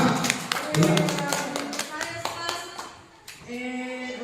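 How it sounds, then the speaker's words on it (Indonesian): In a classroom, a group claps hands in a few quick uneven bursts of sharp close taps, with children's voices and talk mixed in before and after. "tepuk tangan untuk berusaha"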